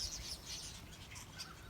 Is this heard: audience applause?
no